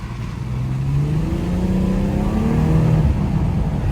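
A 400 hp BMW 340i xDrive drives along snowy, partly plowed main roads, its engine a steady mid-pitched drone that rises slightly as it pulls, with continuous road and tire noise underneath.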